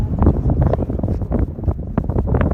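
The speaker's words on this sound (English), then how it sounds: "A good breeze wind." Wind buffets a microphone during a helicopter autorotation flight, giving a continuous rumbling, gusty roar that surges and dips throughout, with no voices heard.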